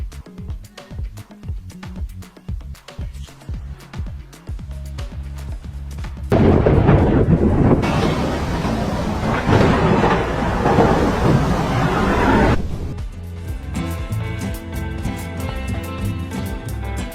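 Loud thunder from nearby lightning strikes, with a sudden heavy crash and rumble that lasts several seconds, set among rhythmic background music or sound effects before and after.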